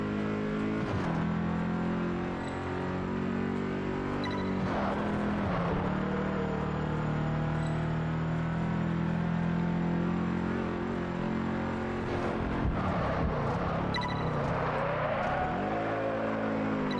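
A fast car races laps in Test Drive Unlimited 2, its engine droning loud and steady with rising and falling revs at gear changes and brief tire noise near the end, heard alone without talk.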